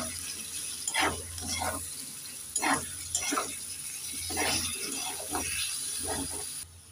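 Potatoes with chili powder, green chili paste and ginger paste are stirred in a pan for a Bengali bitter gourd and potato dish, with close, intermittent scraping and sizzling strokes over a faint hiss.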